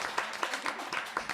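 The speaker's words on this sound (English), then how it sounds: "let's have a round of applause for everybody." A brief burst of audience applause at a career panel, many hands clapping together at a moderate distance.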